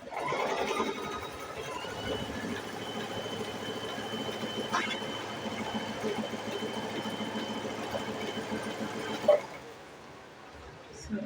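A Toyota sewing machine runs steadily through a zigzag stitch, a continuous close mechanical whir with a fast rhythmic patter that stops near the end, leaving a quieter tail.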